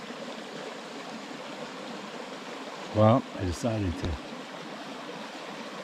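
A cold mountain creek flows with a steady, broad rushing hiss that continues throughout, while someone speaks briefly over it.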